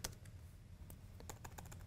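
Rapid clicking of computer keyboard keys during a mobile .NET development session, a steady run of light, close taps lasting about two seconds with no talking.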